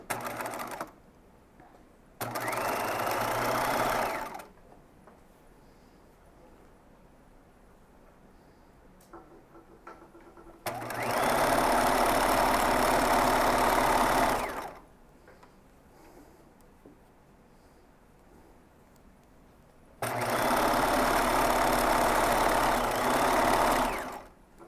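A sewing machine stitches skirt seams in three separate bursts, each running steadily for a few seconds with quiet pauses between, loud and close.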